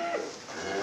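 A cow moos briefly on a farm, a short low call heard close and fairly clear.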